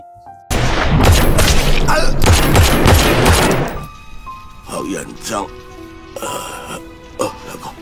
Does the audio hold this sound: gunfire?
yes